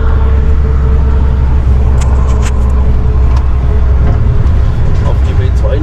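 A truck pulling a trailer drives downhill on the B42, its engine droning in a loud, steady, labouring rumble with road noise throughout.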